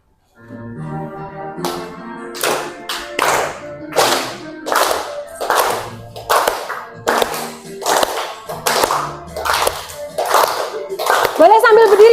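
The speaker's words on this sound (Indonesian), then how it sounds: "Tepuk tangan ya, jadi biar agak semangat gitu" Hand clapping along to a children's song about plant parts in a classroom, a steady series of loud sharp claps in rhythm with singing voices throughout.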